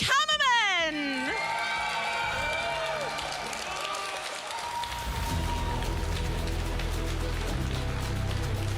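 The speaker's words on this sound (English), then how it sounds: "can we get a Gigantamax round of applause for the victor of our special event, Owen Kammerman?" At a Pokémon TCG special event in Utrecht, voices and tonal sounds fade into a broad wash of crowd applause and cheering for the winner that builds and holds toward the end.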